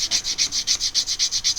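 A wooden seat for a 1:24-scale AEC bus model is sanded by hand in quick, even back-and-forth strokes, about six per second, close and steady with no voices.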